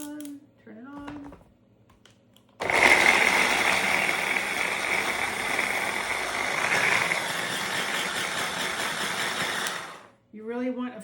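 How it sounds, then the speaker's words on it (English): A Cuisinart food processor grinds onions and garlic in a loud, steady motor whir lasting about seven seconds, with brief talking before and after it. "And grind it with my Cuisinart, one of my favorite little appliances."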